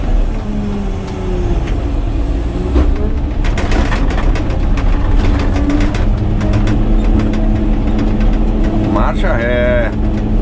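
A Caterpillar 120K motor grader reverses while its blade cuts into earth, the diesel engine rumbling loud and close with rattling clanks and scraping, a short squeal near the end, and someone speaking over it at times.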